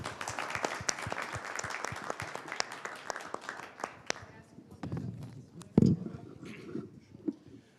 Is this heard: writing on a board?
no